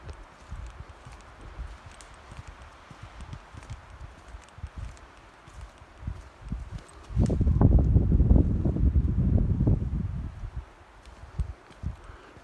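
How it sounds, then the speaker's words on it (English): Cold wind at about 6°C sweeps across an exposed wild camp site, a low rumbling gust swelling loudly for a few seconds over fainter background rustle and scattered thumps. "They're sheltered from that wind."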